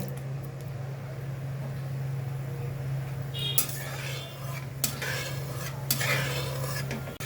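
Dried red chillies and five-spice seeds sizzle steadily in hot oil for a tamarind pickle, with scraping stirs and clinks of a utensil against the pan rising in the second half.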